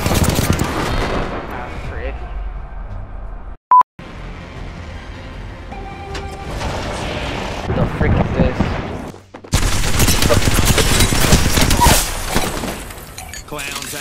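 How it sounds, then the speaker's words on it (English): An Apex Legends airstrike pounds the area with dense, loud bursts of explosions and gunfire-like blasts in two heavy stretches, broken by a sharp beep and a short gap, while players talk over the barrage. "Airstrike."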